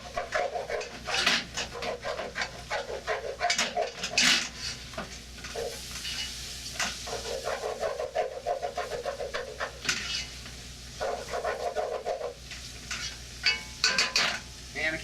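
MorningStar vegan crumbles in marinara sauce in a pan, giving a steady soft sizzle with spoon stirring and scraping, close up under a low constant hum.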